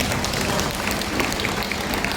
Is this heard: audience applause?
yes